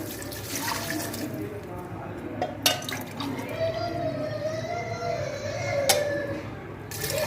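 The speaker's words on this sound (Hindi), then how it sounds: "दो गिलास मैंने पानी शामिल किया है।" Water from a glass pours into a cooking pot of meat and potatoes for aloo gosht, a steady splashing and trickle with a few sharp clinks. Faint background noise runs underneath.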